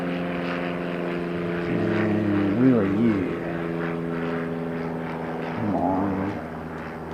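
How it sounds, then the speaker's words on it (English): A helicopter at an airport drones loudly with a steady rotor and engine hum that swells and wavers as it passes, while a person talks over it. "Looks like we've got a fancy jet and we've got a helicopter."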